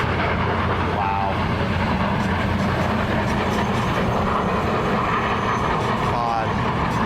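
Union Pacific Big Boy 4014 steam locomotive rolls by trailing only a caboose, a loud, steady rumble of wheels and machinery filling the whole stretch while people talk over it.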